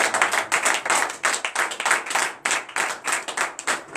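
Congregation at a Beninese morning prayer service clapping in acclamation, a loud, steady rhythmic clap of many hands in pulsing waves, with no talk over it.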